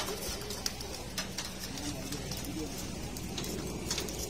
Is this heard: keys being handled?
no